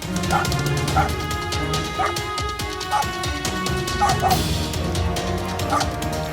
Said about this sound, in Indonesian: Lolongan anjing semakin kuat terdengar.